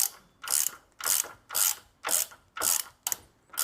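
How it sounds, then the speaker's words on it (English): A ratchet turns a bolt on a Ford Fiesta's wishbone suspension arm, giving seven quick, evenly spaced bursts of crisp clicking, close up and with no talking. "use ratchets just to make sure that you don't damage any of the bolts"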